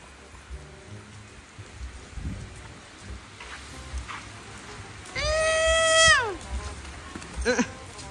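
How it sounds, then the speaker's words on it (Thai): Steady light rain patters in the background while a loud, wavering cry rises over it, followed by another short call and some speech. "ฝนตก"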